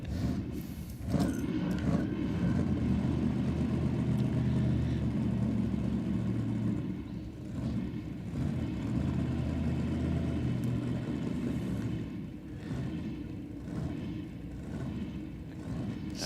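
Drag racing cars at Sydney Dragway, engines revving with a sustained low rumble that swells and dips over several seconds, a bit distant and moderately loud, with no speech.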